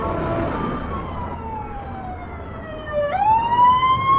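A fire truck siren sweeps slowly downward in a long falling tone, then abruptly jumps back up and starts rising again, loud and near over background traffic noise.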